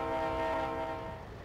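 A Trainz Simulator 12 train horn sounds as one loud, sustained chordal blast that holds steady and begins to fade at the end, heard alone.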